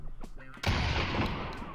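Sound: guns shooting in VR video game COLOPL VR Garage

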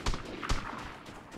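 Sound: sniper rifle shot in the video game Vigor

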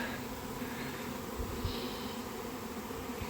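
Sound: bee swarm buzzing on roof

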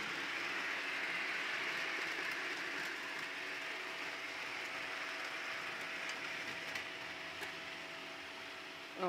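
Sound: model freight train running on layout track

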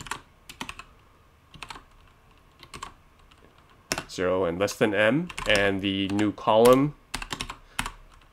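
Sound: typing on computer keyboard

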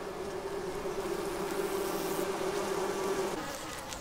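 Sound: bees buzzing

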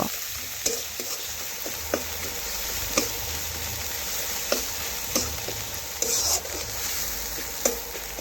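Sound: frying spice paste with onions in a pan

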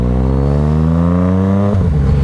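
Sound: Yamaha MT-09 motorcycle engine riding

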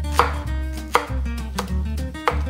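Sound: knife chopping bok choy

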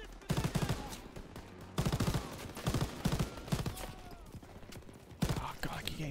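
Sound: gunfire from enemies in Call of Duty WW2 video game

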